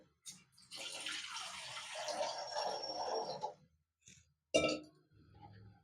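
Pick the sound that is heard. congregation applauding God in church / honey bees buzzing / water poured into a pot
water poured into a pot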